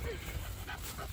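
A dog gives a short bark and quick panting breaths, close by, over a brief moment of background chatter.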